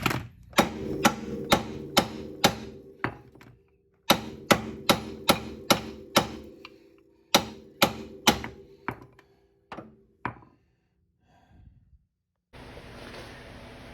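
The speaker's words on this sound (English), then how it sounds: "now we're going to tap the side of the lower control arm here to pop that ball joint off" A hammer striking the lower control arm of a 1998 Honda CR-V to pop the ball joint loose, in sharp metallic blows delivered in three quick bursts of about six to eight evenly spaced hits, close and loud.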